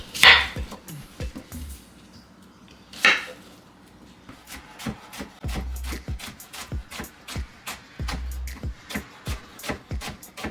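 A knife chops onion on a board while Jamaican curry goat is prepared, a quick run of sharp, fairly close taps that speeds into steady chopping, with soft knocks and some kitchen handling between strokes.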